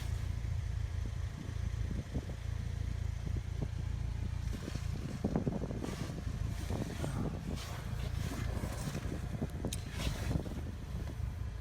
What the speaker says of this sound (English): So I'm applying heat by turning the car on.